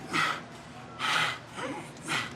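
Heavy, rhythmic breaths come and go close to the ear: three loud, airy exhales separated by quieter pauses, with no talking.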